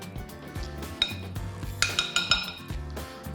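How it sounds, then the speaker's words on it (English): A spoon stirs and scrapes a tomato and ochro mixture in a bowl, making repeated close clinks and taps on the dish in a steady rhythm, with no talking. "Mix all together. And you have your tomato and ochro mixture."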